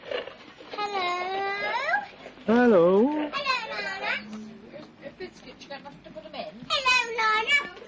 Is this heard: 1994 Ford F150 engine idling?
no